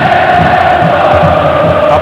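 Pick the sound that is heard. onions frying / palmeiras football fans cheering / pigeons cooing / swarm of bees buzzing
palmeiras football fans cheering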